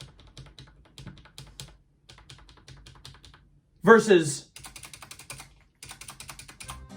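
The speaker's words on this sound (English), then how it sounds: "this is indeed a membrane keyboard, so it is quite quiet." Quiet, soft clicking of keys on a Mofii Honey membrane keyboard comes in rapid irregular bursts with short pauses, broken once by a single spoken word.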